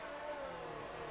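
A Williams Formula 1 car engine in a racing video game, a steady, faint whining drone held briefly with no one talking over it.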